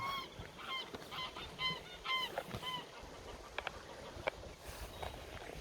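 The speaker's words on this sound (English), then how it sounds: "Some birds." Several honking bird calls in short bursts, like geese, over a steady outdoor hiss, followed by a few sharp clicks or footsteps.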